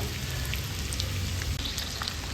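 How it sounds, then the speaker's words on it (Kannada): Eggs fry in a pan for egg curry with Kashmiri chilli powder, giving a steady, dense sizzle that crackles continuously close by, with no talk. "ಮೊಟ್ಟೆ ಈ ರೀತಿ ಫ್ರೈ ಆಗುವಾಗ ಸ್ಟವ್ ಆಫ್ ಮಾಡ್ಕೊಳ್ಳೋಣ."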